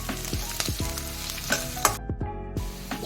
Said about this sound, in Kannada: ಇದಕ್ಕೆ ಶುಂಠಿ ಮತ್ತೆ ಬೆಳ್ಳುಳ್ಳಿನ ಸಣ್ಣದಾಗಿ ಹಚ್ಕೊಂಡಿರೋದು ಹಾಕೋಣ. ಈಗ ಇದನ್ನ ಫ್ರೈ ಮಾಡ್ಕೊಳ್ಳೋಣ.